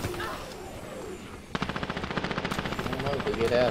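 Rapid bursts of automatic gunfire from the online shooter Dirty Bomb break out midway and rattle on steadily to the end, loud and close, after a stretch of muffled game ambience.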